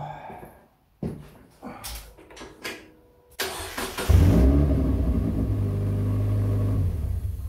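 A Locost 7 kit car engine, mid-build, cranks over and catches, then settles into a steady, loud idle rumble after a few clunks and shuffles.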